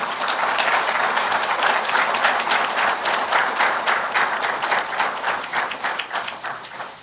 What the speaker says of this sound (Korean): 김 지사님 큰 박수로 맞아주시기 바랍니다